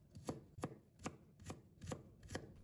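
A knife slicing peeled ginger into thin strips on a board, six quiet, evenly spaced chops with no talking.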